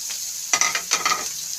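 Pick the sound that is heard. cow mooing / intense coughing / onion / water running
onion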